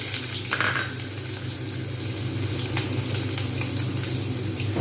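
Whole onions dropped into hot oil and spices, a continuous close sizzle and crackle with a brief hiss near the start, steady throughout with no voices.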